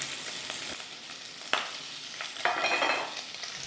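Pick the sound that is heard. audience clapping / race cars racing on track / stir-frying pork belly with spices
stir-frying pork belly with spices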